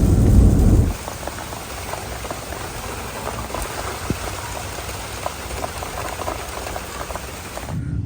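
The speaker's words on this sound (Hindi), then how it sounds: "अच्छा, ये बारिश चेक करें कितनी तेज़ बारिश हो रही है और हवा भी बहुत तेज़ चल रही है" Heavy rain with strong wind in a small US city, a dense continuous hiss of downpour with a louder gusty rumble at the start and again at the very end.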